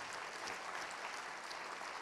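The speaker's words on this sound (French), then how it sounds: "on peut vous applaudir" A conference audience applauds in a steady wash of clapping, faint and distant, continuing evenly for a couple of seconds with no speech over it.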